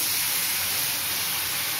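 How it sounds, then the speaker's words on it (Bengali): Chicken pieces hit a hot pan of oil and spices for biryani, sending up a loud, continuous hissing sizzle that stays even throughout with no talk. "এবার মাংসটা দিয়ে দিচ্ছি।"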